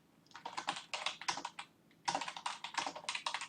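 Close, crisp computer keyboard typing in two quick bursts of rapid clicking with a short pause between, no voices.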